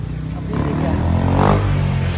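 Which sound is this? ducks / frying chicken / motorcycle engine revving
motorcycle engine revving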